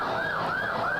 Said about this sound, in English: there is a police car screaming down 114 with its lights on